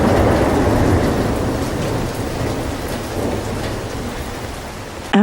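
A brutal Atlantic storm at sea roars with dense, continuous rain and rumbling thunder, loud and steady throughout, with no voices.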